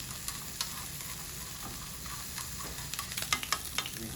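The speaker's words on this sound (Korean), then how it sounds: "이렇게 베이컨을 볶아줍니다" Bacon frying in a pan, a quiet steady sizzle with small crackles and pops that grow busier toward the end, heard alone with no talking.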